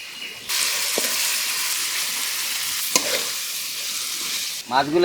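Hilsa fish pieces dropped into hot frying spice paste for a kochu shaak dish, setting off a sudden loud sustained sizzle and hiss that holds steady with a couple of clicks before cutting off.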